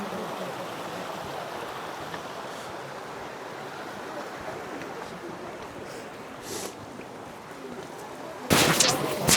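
A river flows steadily on the walk to Ourika Falls in the Atlas Mountains near Marrakech, a constant broadband rush of water, fairly close, with a brief louder splash near the end.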